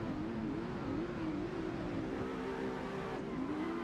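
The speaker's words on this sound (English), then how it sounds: "We're ready to get these 2 cars down the road, flip-flop to the drift drop." Drift cars launching side by side down a strip in the Assetto Corsa racing game, a steady loud engine drone with a wavering pitch that rises and falls continuously, no voices over it.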